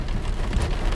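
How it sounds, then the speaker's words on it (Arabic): Steady rain pattering on surfaces at Raghba on a Saturday, a dense, even wash of drops with low rumbling underneath and no voices. "أمطار الرغبة"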